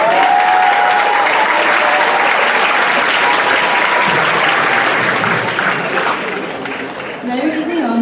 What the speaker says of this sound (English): Give Alexa a big round of applause.